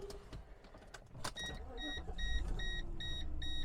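A 1997 Mercedes E420 engine cranks and catches with a brief rumble, settling into a low idle as a series of evenly spaced electronic warning beeps starts up and repeats steadily over the running engine.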